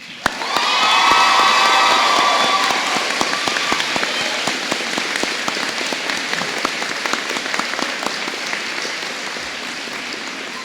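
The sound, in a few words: roaring applause and cheering at a graduation ceremony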